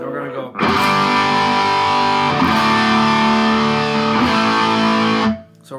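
Distorted electric guitar plays a sustained riff with pull-offs on the third string, loud and saturated, ringing steadily for about five seconds with a few note changes, alone without talk.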